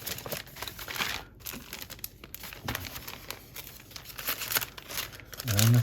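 Crinkly paper from a 97-piece blank journal kit is handled close by, with soft crumpling and rustling bursts throughout and a voice speaking briefly over it.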